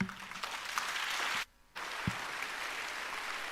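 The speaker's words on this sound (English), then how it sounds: "Another round of applause" Applause from the audience at an education and leadership congress in Nairobi, a steady crowd patter that cuts out briefly midway and then resumes at a moderate distance.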